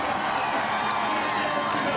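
A roadside crowd at a Tour de France stage in 2010 roars and claps continuously, a dense, steady wash of cheering and applause with no break.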